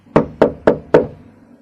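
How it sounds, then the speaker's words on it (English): Knuckles rap on a bedroom door off a corridor: four sharp, evenly spaced knocks, close and loud, each with a short wooden ring. "so I knocked again."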